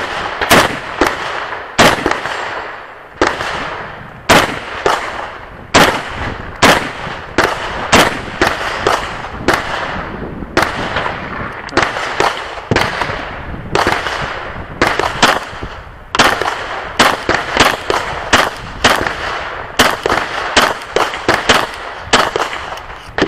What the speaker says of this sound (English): when you're shooting like this, you're going bang, bang, bang